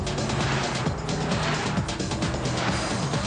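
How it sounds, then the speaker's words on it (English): A car passes by on a road, a loud steady engine and tire roar close to the listener, sustained throughout with no one speaking. "there's that car again"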